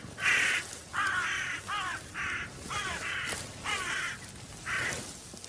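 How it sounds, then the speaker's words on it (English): Crows in the Welsh wilderness caw loudly in a series of about eight harsh calls, fairly close and repeated in irregular bursts with no talking between them. "The crows, it's all kicking off."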